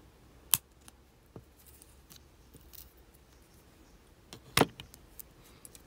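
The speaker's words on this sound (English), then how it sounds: "We're going to cut this wire about there." Wire cutters snip jewelry wire for a wire-wrapped pendant, two sharp isolated clicks about four seconds apart, close and clear against a quiet background.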